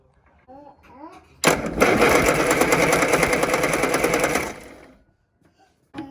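A Classic Mini engine cranks with a fast, rhythmic whirring churn for about three seconds, loud and close, then stops; brief talk comes before it.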